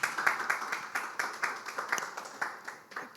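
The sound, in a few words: audience clapping at event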